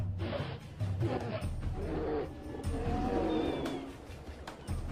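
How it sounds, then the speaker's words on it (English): A polar bear gives deep warning roars and growls to drive off an intruder, loud and close, several rough bursts over a few seconds with breathy pauses between them. "Their roars warn intruders to back off or prepare for battle."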